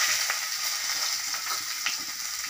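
Two bay leaves sizzle in hot oil in a wok, a steady bright frying hiss with small crackles and pops throughout, close and fairly loud, no voices.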